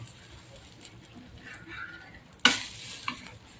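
Dhirde, a gram flour pancake, frying on a pan as a little oil is drizzled over the top; a soft, quiet sizzle that flares into a sudden louder hiss midway, then settles again.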